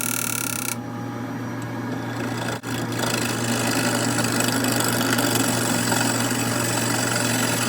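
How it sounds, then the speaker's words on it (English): A wood lathe turns a segmented bowl of walnut, orange osage and cherry while a tool flattens the base, making a continuous rasping, scraping whir over a steady motor hum, with one brief dip partway through. "I'm just going to flatten a little bit and create a recess for the chuck."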